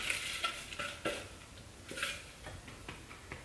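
A spatula scraping lemon cream pie filling out of a bowl, heard as repeated close soft scrapes and light taps against the bowl, no talking.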